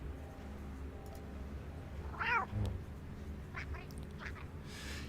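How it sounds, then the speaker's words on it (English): A Lothcat kitten in Star Wars: The Old Republic gives a single short, rising-and-falling meow at mid volume over a steady game background hum, followed by a few fainter chirps. "There's the Lothcat kitten."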